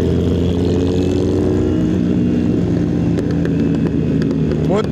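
A motorcycle engine idles and rumbles steadily close by at a Distinguished Gentlemen's Ride in Penang, with a low throbbing tone, a slight shift in pitch midway and a few faint clicks toward the end.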